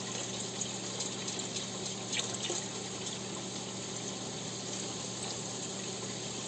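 Vinegar poured into jars for Jamaican pickle pepper sauce makes a continuous close splashing, gurgling pour at an even level, with faint clinks and no speech.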